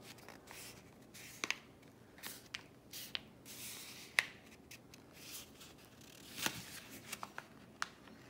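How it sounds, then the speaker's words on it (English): Sheet of paper folded in half by hand for a drawing grid, with soft crisp rustles and sharp creasing snaps scattered irregularly, close and quiet with no talk. "I don't know if I can fold it one more time or not"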